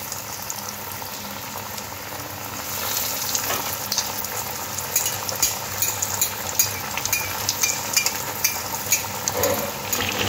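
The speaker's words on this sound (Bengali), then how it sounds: "এবার একটা একটা করে কাটলেটগুলো দিয়ে দেব। একটু গ্যাসটা লোতে দেবো, দিয়ে ধীরে ধীরে খুব ভালো করে কাটলেটগুলো ভেজে নেব।" Veg cutlets frying in hot oil in a pan over a low gas flame give a steady, dense sizzle with crackles and spits throughout. The sizzle grows slightly fuller partway through, with no talking.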